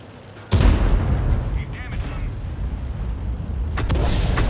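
Artillery guns fire in a tank video game: a loud, close boom hits near the start, followed by sustained rumbling battle noise and a second sharper burst toward the end.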